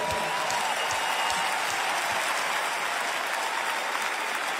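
Sustained applause from a concert audience for the band's musical director, a dense, steady wash of many hands clapping close and loud throughout, with no voices over it.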